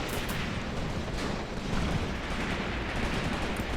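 Incoming artillery fire in the WW2 tactics game Graviteam Tactics, a continuous dense roar of explosions and gunfire rumbling loudly throughout.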